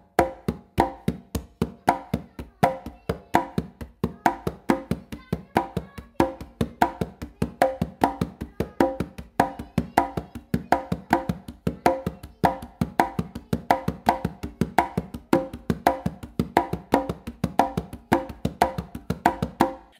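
Congas played as a clave independence exercise, with steady rapid hand strikes mixing deep open bass tones and sharper slaps in a repeating rhythmic pattern, close and loud throughout with no talking.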